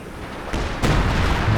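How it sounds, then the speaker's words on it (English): Artillery shells land in a Company of Heroes 2 2v2 match, two heavy booms in quick succession over a continuous rumbling battle bed, the second blast louder and sustained. "Drops the artillery down."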